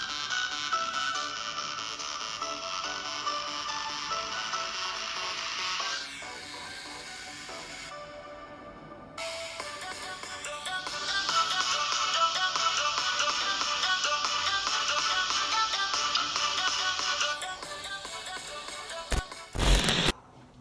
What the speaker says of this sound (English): This is Marshmallow Music alone without the amplifier on the iPhone 6S.